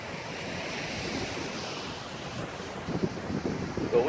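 Ocean waves break on the shore in a continuous roar of surf, with wind buffeting the microphone and a surge that grows louder near the end.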